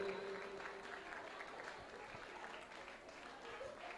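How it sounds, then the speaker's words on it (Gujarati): Audience applause at a day-two award ceremony, heard as a steady, fairly faint wash of clapping from a hall crowd that runs through the whole stretch, with a voice faintly over it. "આપણે તાળીઓ પાડતા રહીએ"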